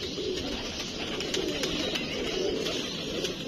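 A pigeon coos softly and repeatedly over a steady, fairly loud background hiss in a pigeon-keeping setting.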